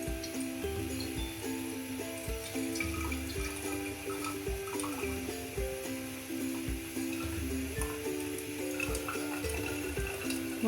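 Water pours off soaked chickpeas and fenugreek into a large basin, a steady close splashing and trickling stream running throughout, fairly quiet with a low hum beneath.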